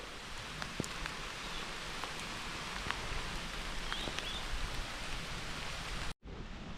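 Rain falling steadily over a cassava field, a soft continuous hiss with scattered distinct drop taps, faint and even throughout before a brief cut near the end.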